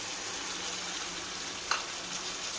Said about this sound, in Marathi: असं सगळं मस्त मिक्स करून घेऊ, मस्त परतवून घेऊ